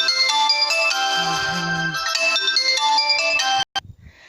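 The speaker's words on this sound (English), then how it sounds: "I've got an important phone call that's trying to come through." A mobile phone ringtone plays loud and steady for over three seconds, a repeating electronic melody from an incoming call, then cuts off abruptly, followed by brief faint rustling in a garden setting.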